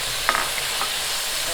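Tomatoes added to softened onions in a pan give a steady, close sizzle with a couple of brief stirring clatters.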